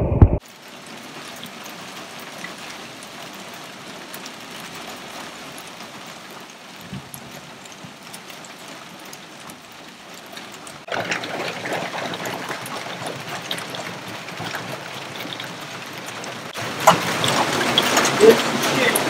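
Hail and rain fall during a storm aboard a sailboat, a dense steady hiss that grows heavier and louder partway through and swells again near the end.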